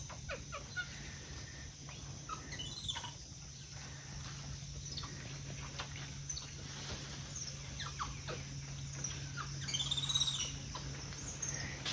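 Capuchin monkeys give scattered high squeals and chirps at moderate distance over a steady low hum, calls recurring irregularly throughout with no talking.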